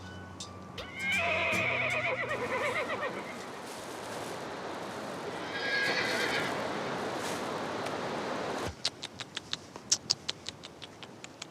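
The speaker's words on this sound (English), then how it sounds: "This breed of horse is called the Spotted Beauty." Kyrgyz Spotted Beauty horses, a native dappled breed, whinny loudly twice close by, then hooves clip-clop in a steady rhythm on firm ground.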